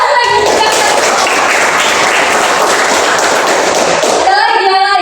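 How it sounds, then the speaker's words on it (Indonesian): A class of primary school pupils bursts into loud, close applause during a science lesson, a dense burst of clapping lasting several seconds before it stops abruptly and a voice starts up. "Oke, beri tepuk tangan lagi."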